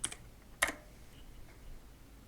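Keystrokes on a computer keyboard, two or three quiet separate clicks with a sharper tap in the middle, faint and close in an otherwise quiet room.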